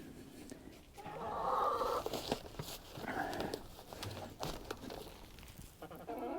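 Several chickens cluck and squawk on and off nearby, with scattered short calls and some rustling in between.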